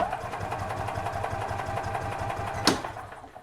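A 2007 EZGO TXT gas golf cart engine cranks without starting, a rapid, even chugging rhythm at moderate level that ends with a sharp click as the cranking cuts off.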